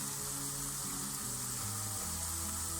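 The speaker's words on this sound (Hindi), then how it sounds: "मैंने ऑयल को अच्छी तरीके से ग्रीस करके इसके अंदर डाल दिया है चिकन" Chicken pieces fry in oil for chili bites, a steady dense sizzle with no pauses, close and even in level, with no voices over it.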